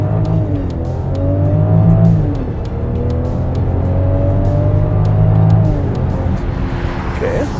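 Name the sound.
2022 Range Rover Velar accelerating hard in dynamic mode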